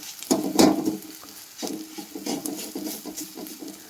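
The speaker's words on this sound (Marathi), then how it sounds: "कढईमध्ये तूप टाकून त्याला परतून घ्यायचं आहे आपल्याला" Fenugreek frying in ghee in a wok, stirred with a spatula, giving close scraping strokes and a soft sizzle in several bursts, loudest at the start.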